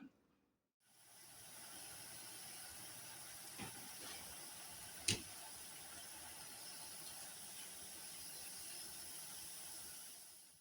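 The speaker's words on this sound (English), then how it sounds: "So you might be able to tell we're getting that nice sizzling." A steady, broadband hissing sizzle from vegetables frying in a pan, continuous and fairly close, with a couple of brief clicks partway through.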